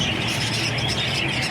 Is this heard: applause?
no